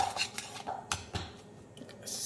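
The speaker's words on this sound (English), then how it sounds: "we whisk." Dark cocoa powder mixture being whisked in a bowl, with a few sharp clinks and scraping strokes of the whisk against the dish, fairly close and with no one talking.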